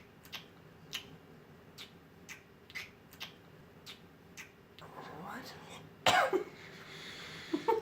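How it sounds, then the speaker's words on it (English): Repeated short coughs at a steady pace, about a dozen bursts, followed by rustling and a sharp clatter near the end. "I'm going to be coughing through this review intermittently"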